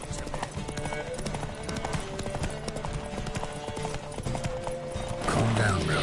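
In The Witcher 3, the horse Roach gallops in a race, rapid hoofbeats clattering steadily with a neigh near the end, under music and voices.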